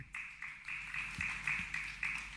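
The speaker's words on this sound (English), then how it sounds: "let us give him a very, very warm applause again" A conference audience applauds a presenter, faint scattered clapping from a room of people, fairly distant and continuing for a couple of seconds.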